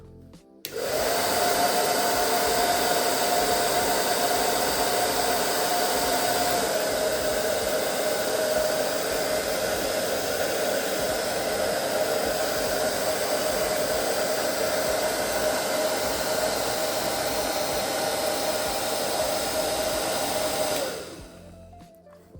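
A 2.4 kW hair dryer running below full power, about 1266 W, on a FOSSIBOT portable power station blows continuously at close range, a loud steady whooshing whine for about twenty seconds before switching off.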